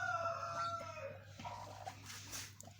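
A brooding hen, sitting on eggs for about two weeks without hatching, lets out a few faint agitated clucks and strained calls, quiet and close with low background hum.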